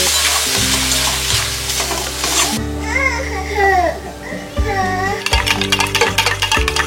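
Powdered spices and squeezed onion juice frying in a pan for chicken bharta, a steady sizzle with stirring scrapes while background music and children's voices play over it.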